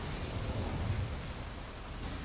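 A fire spell cast in Hogwarts Legacy, a steady roaring whoosh of flame with a rumbling low burst lasting about two seconds, loud and continuous without any talk.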